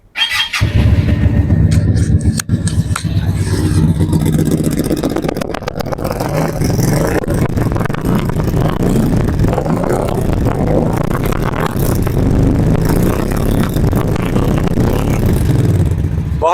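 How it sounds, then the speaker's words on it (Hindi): A Cougar V-twin motorcycle engine starts up and settles into a loud, deep, throbbing idle with a rough rumble, close by and continuing steadily. "फाइनली आपको बाइक का साउंड चेक कराते हैं। As it's a V twin"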